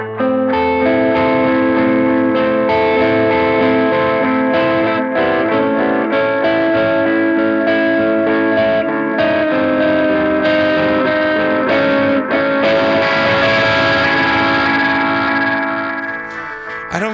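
Electric guitar played through the distortion channel of a Third Man Triple Threat pedal, a thick, sustained driven tone with ringing chords and steady loud strumming, heard alone for the whole stretch.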